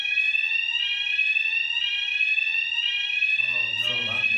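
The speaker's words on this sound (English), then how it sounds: "We have fire alarm." A fire alarm blares loud and close with a steady piercing electronic tone that pulses in repeated long cycles, and a voice starts talking beneath it near the end.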